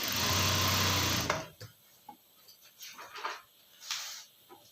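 A sewing machine stitches a readymade top with a straight double stitch, a loud rapid mechanical whir for over a second that stops abruptly, followed by quiet handling clicks and faint rustles.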